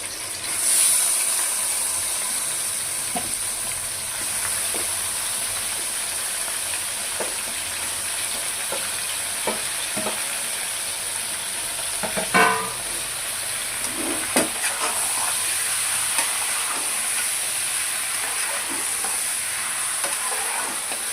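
Mutton pieces fry with onions in a pot, giving a steady sizzle and hiss throughout with occasional stirring scrapes and clinks, heard close up with no one speaking.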